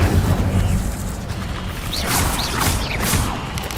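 An Incendio fire spell cast in Hogwarts Legacy combat: a whooshing burst of flame over a rumbling battle backdrop, with short bright magical chimes and sweeps layered on top.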